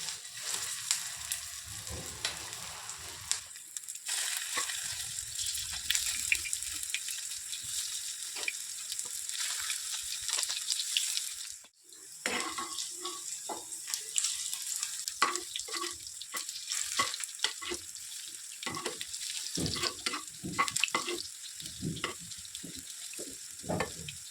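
Okra pieces fry in a pan with a few green chillies for crispy bhindi pakora, giving a steady, close sizzle broken by stirring scrapes and pops, with no talking.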